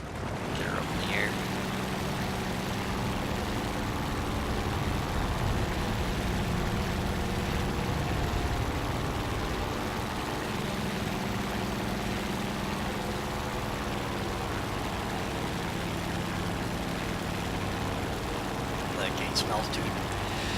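Nakajima J1N1 twin-engine fighter roaring as it takes off and climbs, a continuous broad engine drone with propeller buzz that stays loud and steady throughout, with a voice talking over it.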